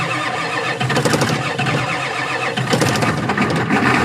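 An old International IDI diesel engine on a tree business truck cranks and catches, a loud, rough, clattering roar close by, surging unevenly for about four seconds with no talk over it.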